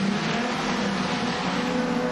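Modified sedan race cars roar around an oval track in a steady, loud engine drone, with a big move around the outside by one car.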